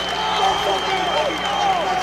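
A baseball team and crowd cheer after a run scores at home plate in a championship game, with steady clapping and shouting that holds loud throughout, while a commentator talks over it.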